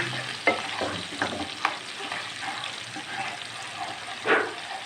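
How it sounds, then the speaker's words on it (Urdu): A chopped onion fries lightly in ghee in a pan, emptied after cooking potatoes for aloo palak, with a soft steady sizzle broken by a few clinks and scrapes of stirring, close and moderately loud, no talking. "اس کو ہم تھوڑا سا لائٹ سا اس کو فرائی کریں گے"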